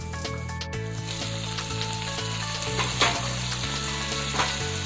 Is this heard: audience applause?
no